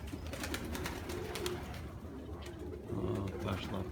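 Pigeons coo in low, soft, repeated murmurs close by, overlapping in an uneven rhythm over a rustling background.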